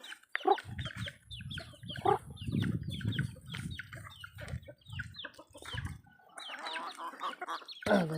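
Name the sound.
chickens clucking while being fed on a farm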